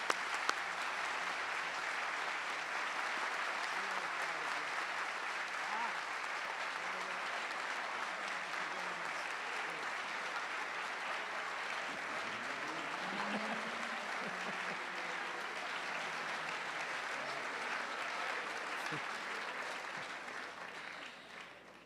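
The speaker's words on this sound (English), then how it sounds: "Join me in a round of applause." Steady applause fills a hall at a Class Day awards presentation, sustained and even for about twenty seconds, heard from a distance at low volume before it begins to fade.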